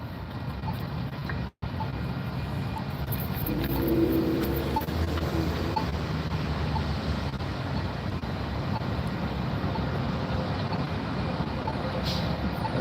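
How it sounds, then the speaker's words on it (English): A train rumbles past outdoors amid street traffic, a broad continuous roar that swells slightly and then holds steady, with a faint voice occasionally underneath. "There goes the train."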